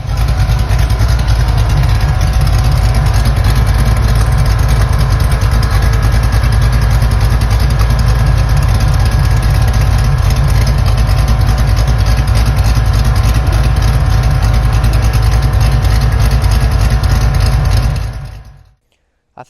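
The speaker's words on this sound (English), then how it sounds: "It has run with the new exhaust, and it sounds pretty good" A 1971 Ford F100 with a new exhaust idles loud and close, a deep, steady, even rumble that carries on without a break before cutting off at the end.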